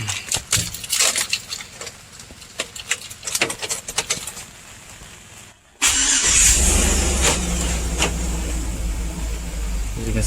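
A Chevrolet Tahoe with a newly installed 400 amp Mechman alternator and Big 3 wiring upgrade is started: clicks and key jangles, then the engine cranks and settles into a loud, steady idle close by, with rain pattering.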